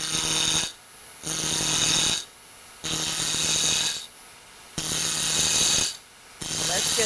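A Dremel rotary tool grinds in repeated bursts of about a second each, shaping a wooden finial toward round, with high whining buzz separated by brief pauses, close and loud.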